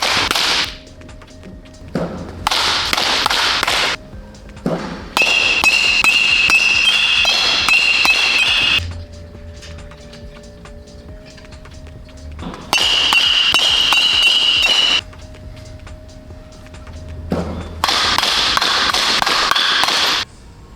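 Youth baseball batting practice, with bursts of sharp bat-on-ball cracks clustered in several loud runs separated by short quieter gaps, no talking.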